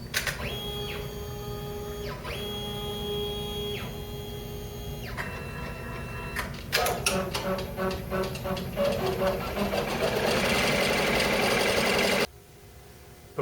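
An embroidery machine stitches the detail for a fabric bunny, a steady close mechanical whirr with rhythmic needle patter that speeds into rapid ticking before stopping abruptly.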